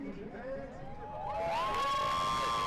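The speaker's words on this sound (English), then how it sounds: "You're hearing it from the crowd a little bit here" Home crowd cheering at an amateur soccer match, Ventura County Fusion against San Jose Earthquakes U-23, faint and distant at first, then swelling into a steady, louder rise of voices and whistling tones.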